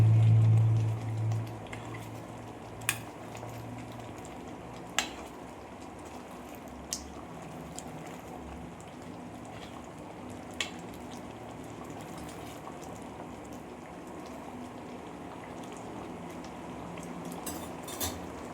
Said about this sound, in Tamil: இப்போது இதுகளை எல்லாத்தையும் வந்து நல்லா மிக்ஸ் பண்ணிடலாம்